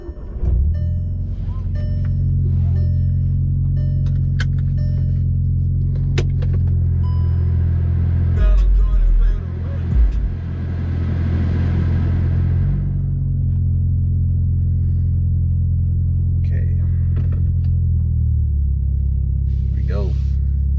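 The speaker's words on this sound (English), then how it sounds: "I'm gonna go ahead and start the car" A car engine turns over and settles into a steady low idle rumble, heard from inside the cabin, with a brief louder burst around the start and a voice speaking over it.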